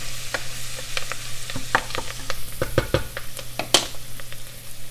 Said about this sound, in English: Once the onions have cooked a little, give them a good stir